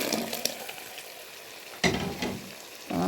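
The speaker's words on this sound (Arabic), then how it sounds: "هنضيف الطماطم." Tomatoes tip into a pan of sizzling carrots almost cooked through, adding to a meat, carrot and celery cauliflower stew; steady frying crackle with a few sharp bursts of sizzle as the pieces land.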